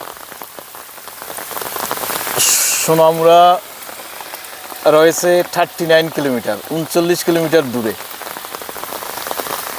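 Steady rain pours down in a rural village near the India–Bangladesh border at Feni, a continuous close hiss running through the whole stretch while someone talks over it in bursts.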